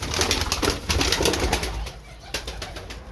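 Pigeons flapping their wings in a fancier's loft, with soft cooing mixed in, a close flurry of wingbeats that eases off after a couple of seconds.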